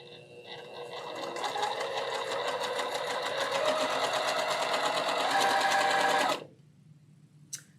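A sewing machine stitches a pink quilt block in one continuous, close, loud run of rapid stitching, then stops abruptly, leaving near silence and a brief click.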